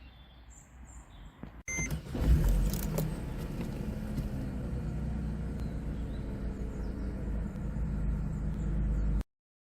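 A 2009 Mercedes-Benz CLK 200 Kompressor Sport Cabriolet pulls away after a door-like clunk, its supercharged engine and road rumble holding a steady, fairly loud drone inside the cabin without talk.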